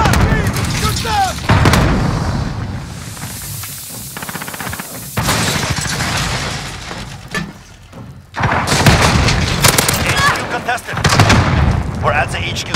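Video game gunfire in Modern Warfare Headquarters mode on the Khandor Hideout map, with dense bursts of shots and booms in several loud stretches, mixed with shouted in-game voice callouts.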